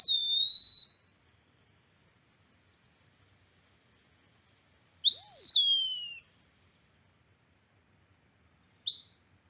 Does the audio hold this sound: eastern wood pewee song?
yes